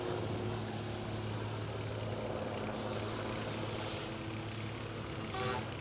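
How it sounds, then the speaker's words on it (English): A horn is tested on a racing car during a three-hour race at Donington Park, sounding as one short, bright honk near the end above a loud, steady rumble of engines and trackside noise. "The testing of the horn means that something very special is about to happen"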